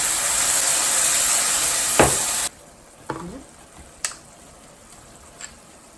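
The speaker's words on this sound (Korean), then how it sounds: "물을 한 소주잔 한 잔 정도 부어주세요" A small glass of water is poured into a pan of spicy tuna frying with chili, with a loud sustained sizzle for about two seconds, then sudden quiet broken by a few sharp clinks and taps.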